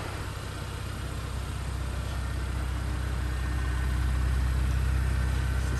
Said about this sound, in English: It's just like a sewing machine ticking away very, very nicely, and you can just hear the throb of the exhaust at the rear.